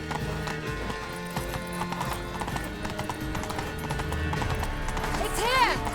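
Hooves of Geralt's horse Roach clip-clop rapidly at a gallop in The Witcher 3, under game music and crowd voices, with a whinny near the end.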